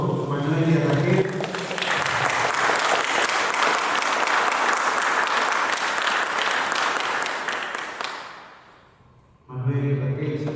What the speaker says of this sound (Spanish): Vamos a dar un fuerte aplauso a Manuel y a Raquel.